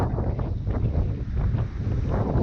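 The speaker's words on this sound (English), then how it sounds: "So you guys can see how windy it is with gusts." Strong, gusty outdoor wind during a drone flight, loud continuous buffeting and rumbling of wind against the microphone with no voices.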